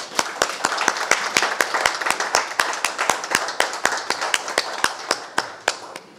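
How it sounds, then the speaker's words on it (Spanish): Applause at the inauguration ceremony of an optical transport networks laboratory, a sparse group clapping in a steady rhythm of sharp, distinct claps that carries on through the whole stretch, close by and fairly loud. "con este aplauso celebramos"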